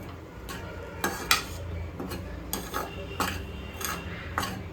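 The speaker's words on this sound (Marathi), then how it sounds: "आता आपण छान असं खरपूस भाजून घेऊया" Coconut and spices for Malvani goda masala are dry-roasted in a pan, with a spoon scraping and clinking against the metal in irregular strokes over a faint background hum.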